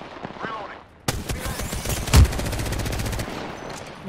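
Enemy gunfire in a video game arena shooter erupts suddenly as a rapid burst of automatic shots with one heavier blast, loud and close, after a brief stretch of quieter background and speech.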